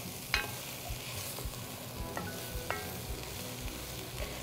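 Vegetables coated in spices sizzle steadily in a hot pan for veggie chili, a constant close frying hiss with a few sharp crackles and light stirring scrapes, no voices.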